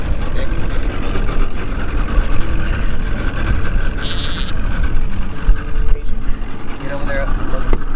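A boat motor on a Chinook salmon fishing boat runs loud and steady with a low droning rumble, while people talk over it.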